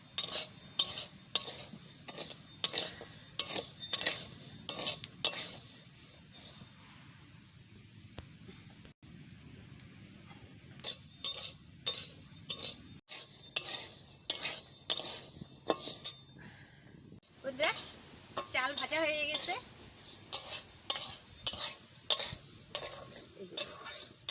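Rice dry-frying in a kadai until reddish, stirred with a metal spatula in brisk rhythmic scrapes and clinks, a pause midway, then steady stirring again over a faint sizzle.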